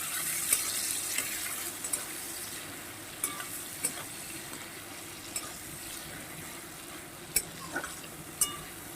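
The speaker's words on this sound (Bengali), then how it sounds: "এবার এটাকে সুন্দর করে ভেজে নেবো" Snake gourd frying with salt in a pan: a steady, hissing sizzle runs throughout, broken by scattered light clicks and scrapes of stirring, close and moderately loud with no voices.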